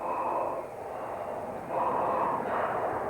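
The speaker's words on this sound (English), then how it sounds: "You can hear from the breathing that the crew is having to work quite hard" Heavy, laboured breathing from an aircraft crew straining through a roll with wheels down, a rough broadband rasp in two long surges over a steady engine hum, no words spoken.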